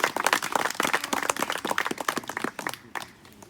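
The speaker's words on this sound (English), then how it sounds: "A round of applause for my mom." Guests at a celebration-of-life gathering clap for the speaker's mother with crisp, close handclaps. The applause thins out and fades to near silence by the end.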